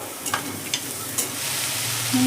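Chickpeas and chopped medium tomato stirred in a hot pan for South Indian-style chole chaat, with a soft steady sizzle and a few light scraping clicks of the spoon, close and alone.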